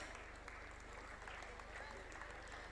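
A faint, distant round of applause rises from the audience at a Mr & Miss pageant. The dense, even clapping continues without a break.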